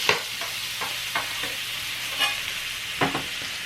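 Butter sizzles and browns with sweetbreads in a hot pan, a steady frying hiss broken by several soft scraping stirs and spoon bastes.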